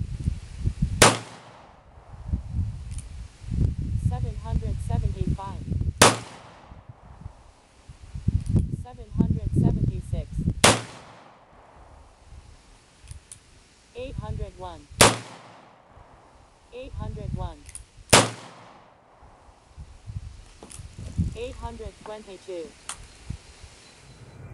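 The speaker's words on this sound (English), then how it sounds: "We're going to be using the Ruger LCR first with a" A Ruger LCR .38 Special revolver with a 1 7/8 inch barrel fires five loud, sharp shots several seconds apart while being shot over a chronograph, with chronograph beeps and faint rustling between shots.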